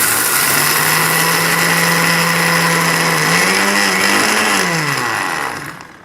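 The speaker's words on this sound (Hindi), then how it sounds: "इसमें मैंने जो भुने हुए चने हैं उनको हम पीस लेंगे। ठीक है, अच्छी तरह पीसना है, बिल्कुल महीन पाउडर बना लेना है आपको।" An electric grinder grinding roasted chickpeas into fine powder, a loud steady whining motor hum whose pitch wavers as the jar works, then winds down at the end.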